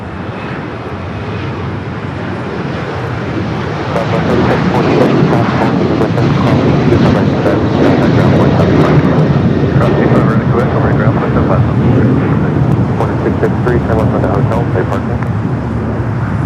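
An airliner takes off at Los Angeles International Airport, its engine roar starting moderate and swelling loudly after a few seconds into a sustained, powerful rumble that holds to the end.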